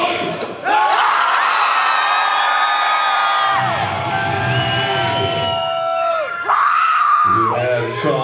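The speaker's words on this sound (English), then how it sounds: "Continue to scream, Prague!" A concert crowd in Prague screams loudly and without a break at a show. Shrill, sustained screams and whoops overlap, and the noise swells again near the end.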